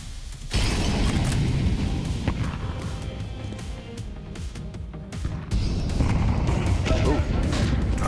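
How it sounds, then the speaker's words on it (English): Artillery barrage pounding the B site in Counter-Strike during a G2 vs MOUZ professional match at the BLAST Premier World Final, a dense, continuous rumble of booms and blasts with commentators talking over it. "Artillery barrage hitting the B site."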